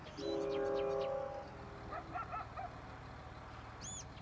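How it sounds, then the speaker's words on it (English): A train in the Farming Simulator 19 farming game rolls past with a sustained horn blast up front, then wheel and carriage clatter fading into the background, with faint voice-like sounds. "another train?"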